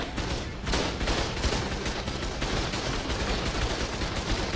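Rapid sustained turret gunfire in the survival game ARK during a PvP bunker fight, a dense, continuous barrage of overlapping shots that stays loud throughout with no pauses.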